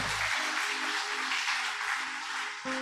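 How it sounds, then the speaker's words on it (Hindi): Loud, sustained applause from a church congregation at a pastor's service fills the space, a dense steady wash of clapping with a low hum underneath and a brief shift near the end. "जोरदार टाळ्या वाजवा."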